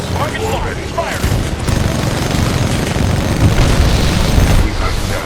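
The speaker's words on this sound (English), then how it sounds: "Target locked. Firing." In the video game Titanfall 2, Titan weapon fire sets off dense, loud explosions, with heavy booms and rapid bursts rolling together continuously.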